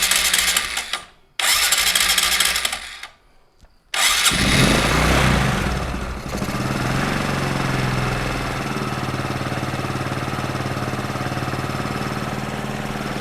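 A carbureted motorcycle with a non-working choke is started by hand after two brief cranking attempts, then settles into a steady, loud, close idle as the engine warms up before carburetor adjustment.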